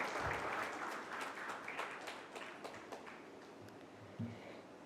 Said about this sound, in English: Everybody, please give a big round of applause to Dr. Nidhi Pundir